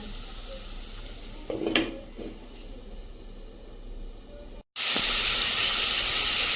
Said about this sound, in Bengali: ওইটাই একটু ভেজে নিচ্ছি ডালের সঙ্গে খেয়ে নেওয়া যাবে